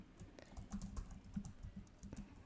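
Quiet, rapid typing on a computer keyboard, a close run of irregular light key clicks continuing for a few seconds with no talk.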